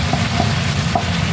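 A pile of sliced white onions frying in a pan for chicken afritada makes a dense, loud, close sizzle that holds steady throughout with no talk.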